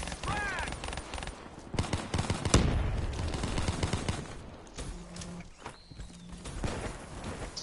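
Gunfire in the video game Black Ops 3 rings out as a few sharp, loud shots and short bursts over a busy game background with scattered effects.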